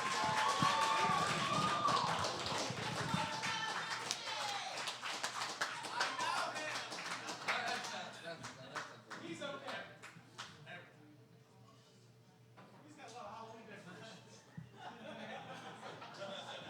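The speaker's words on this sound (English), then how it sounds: "Please give a huge round of applause to the other organizer of the Dayton Poetry Slam." An audience at the Dayton Poetry Slam gives a round of applause for an organizer, loud sustained clapping with laughter and voices, tapering off into scattered claps and talk.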